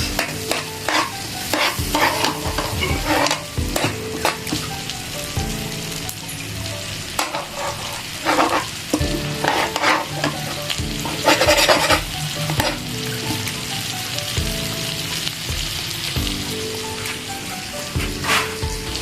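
Garlic and onion sizzling in a hot pan while being stirred, a continuous frying hiss broken by repeated scraping and clattering stirs, fairly close.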